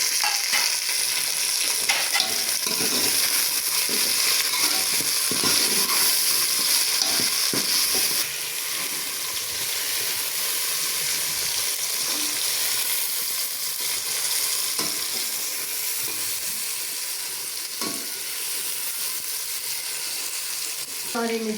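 Ginger garlic paste, tomato and green chilies hiss steadily in a hot pan with oil, a continuous loud sizzle. Occasional clinks and scrapes of stirring break through, and no one speaks.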